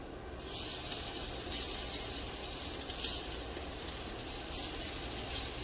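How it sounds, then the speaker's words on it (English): Broccoli and garlic sautéing in a pan, giving a steady, close hiss and sizzle that stays even throughout. No talk. "So you guys can see that I'm cooking the broccoli"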